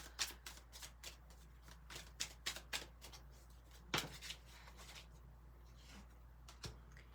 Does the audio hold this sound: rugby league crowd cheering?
no